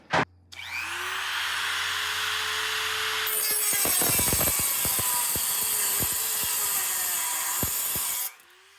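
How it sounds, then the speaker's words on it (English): A Dremel rotary tool cuts a trim stud off a 1973–79 Ford dent side truck: a steady high motor whine spins up, then turns harsher and grinding with repeated clicks and catches as the cutoff wheel bites the metal, then stops. "So I don't know if the Dremel tool is going to do a whole lot better, but let's try it."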